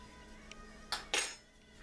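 A metal skillet is picked up and handled in a kitchen where turkey and spices are being prepared, giving two quick clanks close by with a faint clink just before, over a quiet room.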